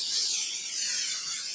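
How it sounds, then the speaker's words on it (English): Cooking spray hisses in one short, steady burst onto parchment paper, close and alone. "I'm just going to spray my parchment paper."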